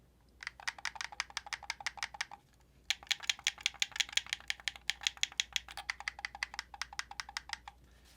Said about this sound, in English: you can tell they all sound a little bit different, like smooth and soft, a little bit clicky, and then really clicky